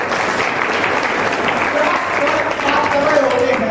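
Loud, sustained applause from an audience at a poetry event, dense continuous clapping with faint voices mixed in beneath it.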